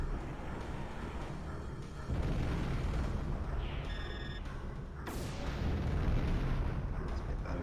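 Gunfire and explosions in the Panzer Dragoon Saga video game, with rumbling blasts and bursts layered over a dense, steady roar, a sharp hit midway and a louder swell toward the end.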